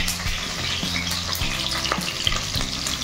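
Onion and capsicum fry with paneer in a pan, giving a continuous close sizzle with intermittent scraping and clinking from stirring.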